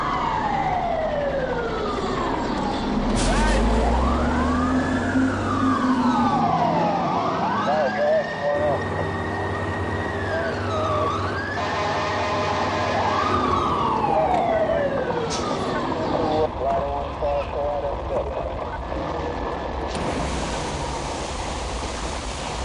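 A fire engine siren wails in loud, continuous rising and falling sweeps close by, with several harsher horn-like blasts cutting in. The scene is a fire company in New York on 11 September 2001.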